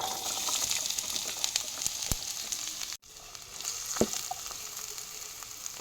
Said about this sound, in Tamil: வெங்காயத்தை வந்து நல்லா கோல்டன் கலர் வர வரைக்கும் நம்ம ஃப்ரை பண்ணிகிட்டே தான் இருக்கணும்.